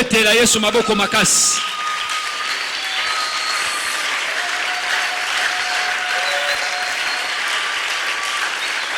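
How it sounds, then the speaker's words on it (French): A church congregation applauding, dense sustained clapping from a large crowd that follows a short spoken phrase and carries on loudly with cheers mixed in. "Est-ce que nous pouvons nous lever et acclamer très fort pour le Seigneur?"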